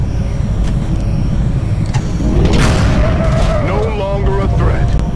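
A video game explosion in XCOM: Enemy Unknown, an airborne enemy blown out of the sky, bursts loudly amid dense continuous game noise and effects, followed by rising whooshing and warbling tones.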